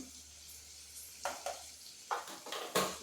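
Cumin and chili powder being stirred in a pan for a vegetable dish, a faint low sizzle broken by several short spatula scrapes against the pan.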